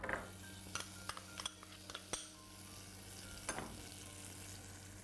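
Butter and green capsicum fry in a pan with a low, steady sizzle, punctuated by scattered clicks and taps of a utensil stirring. No one speaks.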